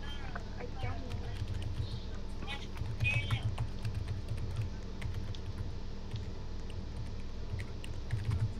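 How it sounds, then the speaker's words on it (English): Rapid clicking of a computer keyboard during a Roblox gaming session, a continuous patter of keystrokes under steady background noise and faint talk. "What are you doing typing?"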